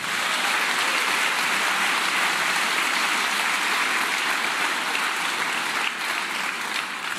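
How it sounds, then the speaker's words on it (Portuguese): Sustained, dense applause from a church congregation fills the space without pause, even and fairly loud throughout, like heavy rain of hands with no voices standing out. "Você que crê pode aplaudir e glorificar."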